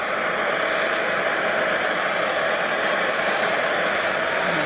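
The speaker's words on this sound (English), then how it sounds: "I just want to use my little propane heater because I don't want this to get too hot" A small propane heater roars in a steady, loud, unbroken hiss close by while heating a stubborn bolt on the rear bumper of a 1970 Buick Wildcat convertible.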